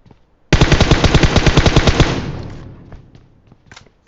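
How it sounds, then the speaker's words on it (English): A big gun fires in PUBG Mobile: one loud, close, rapid automatic burst of about a second and a half of evenly spaced shots, then an echoing tail and a few faint distant shots. "Someone's shooting a big gun."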